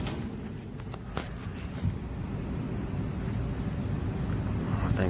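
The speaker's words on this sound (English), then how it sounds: "as you can hear, those motor bearings are about shot" An air conditioner blower motor with worn-out bearings runs with a steady low rumble, overlaid with a dry, irregular ticking and rattling.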